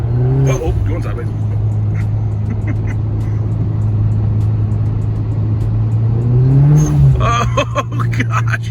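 Engine of a 2011 Hyundai Genesis Coupe 2.0T turbo, rear-wheel drive, droning steadily and rising in revs while sliding sideways on snow, loud and close throughout with a sharper surge near the end, and people talking over it.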